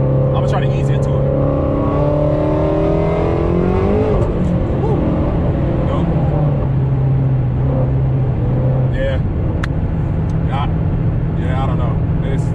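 A boosted car's engine runs loud and close, its droning tone climbing as the revs rise hard and then settling back to a steady roar.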